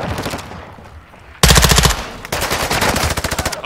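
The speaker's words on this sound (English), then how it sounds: "I'm taking fire." Rapid automatic gunfire in a Call of Duty Modern Warfare II multiplayer match, with a loud sustained burst followed by another volley of close, fast shots.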